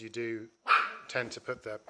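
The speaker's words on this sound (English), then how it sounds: "excuse my dog in the background going crazy" A pet dog barks and yips excitedly in short bursts close by, its barking mixed in with someone talking over it indoors.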